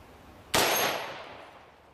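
A single sharp gunshot from a rifle firing green tip rounds at a titanium plate, a sudden loud crack with a ringing clang that decays over about a second.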